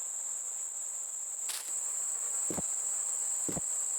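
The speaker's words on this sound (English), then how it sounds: "that's the sound of bugs in the forest" Steady high-pitched forest insect chirring in a horror video game fills the background continuously, with a few brief louder clicks or knocks breaking through at intervals.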